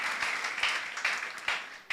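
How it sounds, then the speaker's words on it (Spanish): A church congregation applauding after a sermon, a short burst of moderate clapping with rhythmic peaks, heard fairly distant and without voices. "puedes rendirle una fuerte ofrenda de aplauso."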